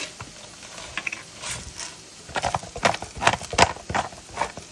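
A pepper mill grinds black pepper up close, making bursts of dry ratcheting clicks that grow louder and denser toward the end.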